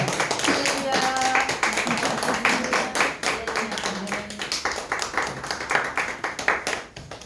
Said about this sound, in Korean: 큰 박수로 한번 환영해주시기 바랍니다